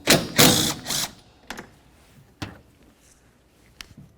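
A ratchet works a 17mm nut off the windshield wiper linkage of a 2003-2007 Honda Accord, giving a loud burst of clicking at the start, then a few sharp isolated clicks and taps alone.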